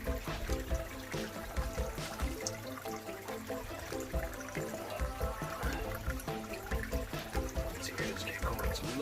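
Water pours and splashes into a container beside a pond aquarium, a faint, continuous burbling trickle with irregular gurgles throughout.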